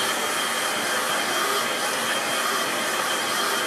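A hair dryer blowing on a wet watercolour painting, a steady loud whooshing roar held close and unbroken throughout.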